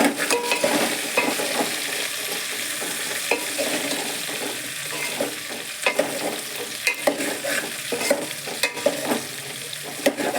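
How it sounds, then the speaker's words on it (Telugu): A spiced curry mixture sizzles and fries steadily in hot oil while a spoon stirs it, with continuous crackling and frequent scraping clicks against the pan, close and loud throughout, no voices. "ఆయిల్లో మంచిగా ఫ్రై అవ్వాలండి."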